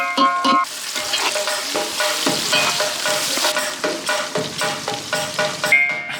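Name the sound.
onions and tomatoes frying and stirred in a pan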